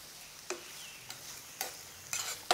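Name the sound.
stirring garlic mixture in a pan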